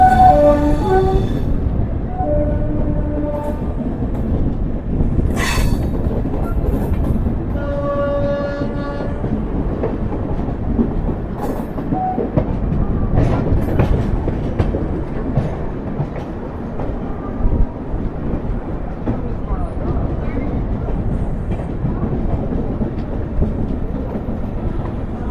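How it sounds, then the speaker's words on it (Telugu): The Saptagiri Express, running from Chennai Central to Tirupati, passes nearby with loud, continuous rail rumble and clatter. Several horn blasts sound early on, and the wheel noise carries on steadily to the end. "చూడండి Saptagiri express, MGR Chennai central Tirupati Saptagiri express"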